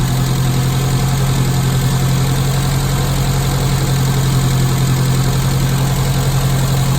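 A classic Mini engine idling at about 900 RPM, a loud, steady low hum with an even rumble that holds unchanged throughout, close up and with no voices.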